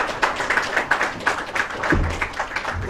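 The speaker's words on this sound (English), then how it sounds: "Please welcome him with a big round of applause" A crowd claps steadily at a formal security meeting with election officials, welcoming Cabinet Secretary Onesimus Murkomen; dense, continuous applause with no pauses, moderately loud and close throughout.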